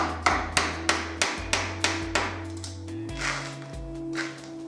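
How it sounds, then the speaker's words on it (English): Sharp metallic hammer strikes on a Toyota Supra engine block ring out at a steady rhythm, about eight blows, close by, with a faint hum and low rumble underneath. "Yes, using a hammer."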